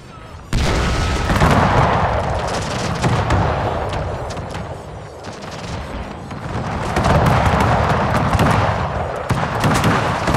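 Musket volley fire in Pike & Shot Total War, a video game battle between Austrian and Swedish armies, heard as dense rolling crackles and booms that swell and fade continuously over a noisy battlefield din.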